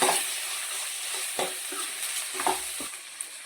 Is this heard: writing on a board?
no